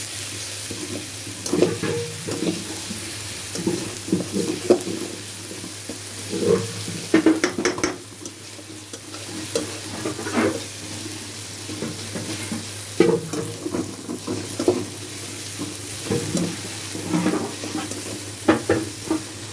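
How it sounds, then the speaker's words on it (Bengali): Onions sizzle in a pan for a braised fish dish, with repeated scraping stirs giving an uneven rhythm of louder bursts over a continuous fry, no voices. "পেঁয়াজটা ভাজা ভাজা হলে এক এক করে মশলা দিয়ে দিব।"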